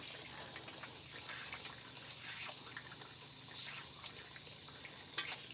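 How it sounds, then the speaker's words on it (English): Warm water runs steadily from a salon rinse sprayer over a client's hair, a faint, continuous splashing hiss with small drips. "Now we are using warm water when we're rinsing her."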